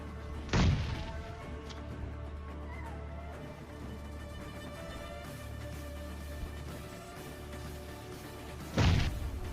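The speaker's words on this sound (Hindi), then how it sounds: "भाई मैंने 2-3 ग्रेनेड फेंक दिए इसके घर में।" Grenade blasts in a shooter video game: two heavy booming thuds, one near the start and one near the end, with a low rumbling game ambience and faint clatter between them.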